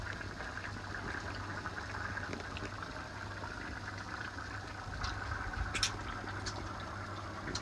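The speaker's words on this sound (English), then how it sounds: "Cooking and bubbling." Curry simmering in a pot outdoors, a low continuous bubbling and gurgling with faint crackles and a steady low hum beneath, quiet and unbroken by speech.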